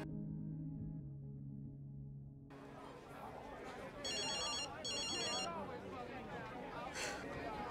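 A phone rings in a scene from the TV show Sense8, its repeated electronic ringtone bursts coming through mid-clip over background chatter and crowd noise.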